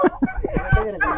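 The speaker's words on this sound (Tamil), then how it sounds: "இவர்தான் வான் கோழி" A turkey gives a rapid series of throaty, warbling gobbles, close by and fairly loud, with short gaps between the bursts.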